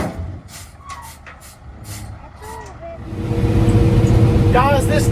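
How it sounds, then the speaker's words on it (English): A dump truck emptying its bed of dirt on a dirt track build site, a low heavy rumble swelling louder in the second half with a brief high mechanical squeal near the end, as people talk over it. "this dump truck really is a game changer"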